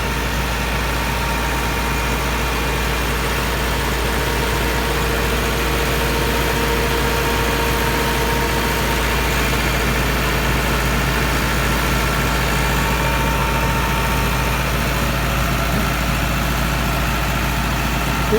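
A Massey Ferguson MF 375 tractor with a Perkins engine runs at a steady idle, a loud, close, unbroken diesel rumble and vibration throughout with no talk.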